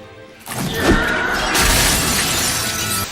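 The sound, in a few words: glass shattering sound effect, man thrown through stained glass window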